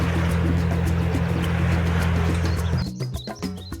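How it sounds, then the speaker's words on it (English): Birds chirp and call around a boat on an inland waterway trip between North Carolina and Florida, mixed with a steady low motor drone and water noise. Calls become clearer near the end as the hum shifts. "A lot of birds around there."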